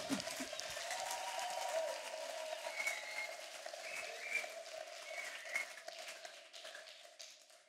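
A church congregation applauds and cheers to acclaim Jesus at the close of a sermon, a steady, moderately distant wash of clapping with some raised voices through the whole stretch.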